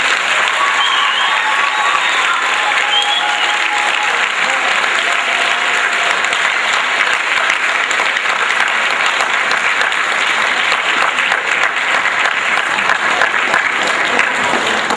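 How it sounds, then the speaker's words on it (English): A large crowd at a sports awards banquet applauds continuously and loudly, a dense, even wash of clapping that holds for the full fifteen seconds. "Please join me in a round of applause to show our appreciation."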